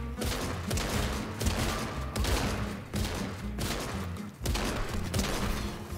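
Sustained bursts of rapid gunfire in the Fortnite video game, shooting apart a llama piñata, with dense volleys running almost continuously and brief pauses between them.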